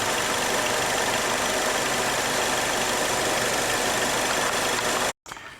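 A Chevrolet Malibu engine with an intermittent stumble idles steadily and loudly up close, a broad constant rumble that cuts out abruptly for a moment near the end before resuming more quietly.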